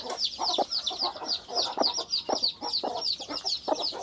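A cluster of young chicks peeps and clucks in quick, high, overlapping chirps close by, a busy repeated chatter with no pauses.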